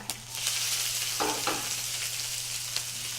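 Ginger and onions sizzle in a frying pan, a steady bright hiss of frying close by with two brief bursts of stirring or scraping partway through, no voices.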